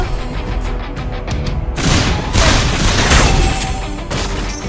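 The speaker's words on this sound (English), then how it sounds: "Our turret has been destroyed." A turret crumbling in the Mobile Legends game: a loud, sustained booming crash with rubble-like rumble swelling after a series of short impacts, thick with layered game effects.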